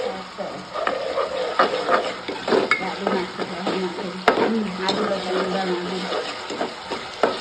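Onions fry and sizzle in a pan with gram flour, stirred steadily with a spoon, a village kitchen cook's voice faintly audible over the constant crackle and scraping.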